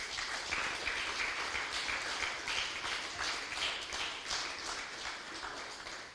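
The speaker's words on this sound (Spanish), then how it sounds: "Denle un fuerte aplauso al Señor" A church congregation claps together in steady, sustained applause, a full, even roar of many hands that carries on for several seconds with only slight swells.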